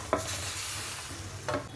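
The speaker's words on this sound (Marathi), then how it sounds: "आता आपण लगेच त्याच्यामध्ये रवा टाकूया रव्याच्या गुठळ्या नाही होऊन द्यायच्या" A spoon stirs semolina into boiling milk in a pot, with soft scraping strokes near the start and end over a low bubbling simmer, close and fairly quiet.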